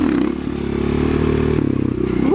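A motorcycle held in first gear for slow wheelies drones steadily and loud up close, its engine tone wavering slightly and rising briefly near the end.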